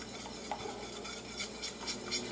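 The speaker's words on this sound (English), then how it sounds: "I'm just going to go ahead and keep whisking this" Worcestershire, salt and garlic powder being whisked into a seasoning mix for smoky chipotle buffalo wing sauce, a quick rhythmic run of soft metallic whisk strokes against a bowl.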